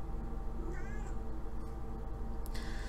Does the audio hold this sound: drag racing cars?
no